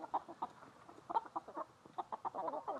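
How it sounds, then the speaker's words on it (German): Hens clucking inside a chicken coop in January, a dense run of short, fairly faint clucks and cackles overlapping in uneven bursts throughout, with no speech. "So, wir sind jetzt hier im Hühnerstall."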